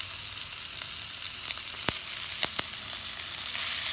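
Steak frying in a cast iron pan with butter, garlic and herbs, a steady close sizzle and crackle with a few sharp pops, no talking.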